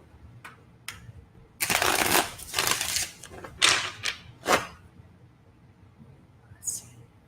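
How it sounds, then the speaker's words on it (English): A deck of tarot cards is shuffled close up, first with a few light taps and then with several loud riffling, flapping bursts that fade to quiet handling. "Let's give these cards a chance to get in order"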